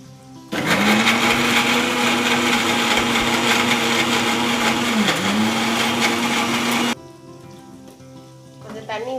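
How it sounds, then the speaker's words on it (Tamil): A kitchen mixer grinder blends cooled onion, tomato and half a coconut for fenugreek kuzhambu. It gives a loud, steady whirring roar for about six seconds, then cuts off sharply, leaving quiet kitchen sounds. "வெங்காயம், தக்காளி, அரை மூடி தேங்காய், இது ரெண்டையும் மிக்ஸி ஜாரில் போட்டு அரைச்சிட்டு வரலாம்"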